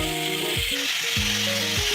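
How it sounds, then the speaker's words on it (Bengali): Oil sizzling steadily as boiled bitter gourd fries in a pan, a constant bright hiss running the whole time with a low tonal hum beneath. "ওই তেলের মধ্যে আমি সিদ্ধ করা করলাটা আবার দিয়ে দিচ্ছি, তেলে নিব"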